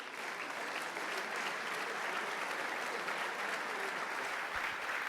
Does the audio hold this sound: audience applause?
yes